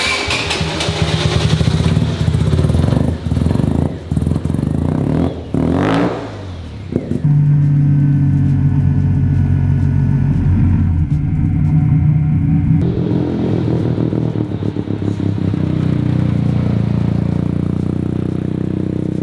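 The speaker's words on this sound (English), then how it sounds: "You guys get to witness what a One Rotor with 20 pounds of boost is doing on the street." Turbocharged one-rotor rotary engine car running hard at 20 psi boost on a street, loud and close, with a buzzing rev rising, a brief drop and then a sustained roaring drone that carries through to the end.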